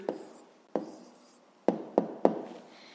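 A pen writes an answer by hand in a few short, quiet scratching strokes, separate taps and scrapes spaced unevenly, close and isolated with no speech.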